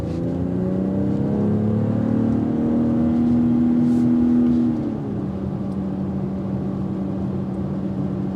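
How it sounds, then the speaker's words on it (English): BMW X4 M40i exhaust loud and close under acceleration, a steady rising drone with strong harmonic layers that swells for about five seconds, then settles into a lower sustained hum. "Listen to that exhaust."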